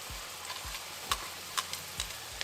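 Shredded carrot frying in butter in a pan, a soft steady sizzle with faint spoon scrapes and stirring knocks recurring every half second or so, no talking.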